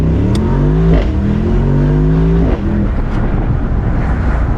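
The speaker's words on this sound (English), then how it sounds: "switching into Sport Plus, you can automatically feel the exhaust is a lot louder" A Mercedes-AMG SL55 with a 4-liter twin-turbo V8 sounds loud and close in Sport Plus. The engine drones under load, and its pitch rises and falls through shifts.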